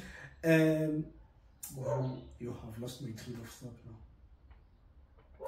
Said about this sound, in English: the apologies for the dog barking